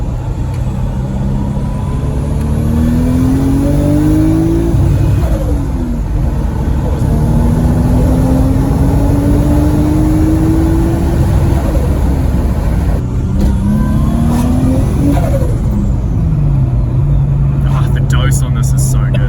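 A Nissan Skyline R33 with an RB25 engine revs repeatedly on a dyno, loud and close, its engine note climbing in long sweeping pulls, dropping and rising again, with brief lulls between runs.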